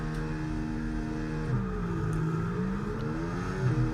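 An F1 car engine revs on the grid before a race start in the F1 24 video game, a steady high-pitched drone with small rises and dips in pitch, loud and constant throughout with no talk.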